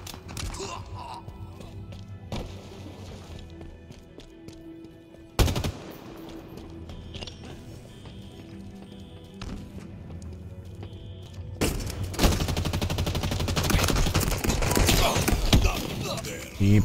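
Rapid automatic gunfire bursts from the Halo Infinite video game, with sharp shots interrupting and a sustained dense volley near the end, while someone talks over the action.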